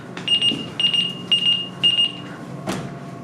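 A smoke alarm sounds four rapid shrill beeping bursts in a regular pattern, loud and close, followed by a brief thump.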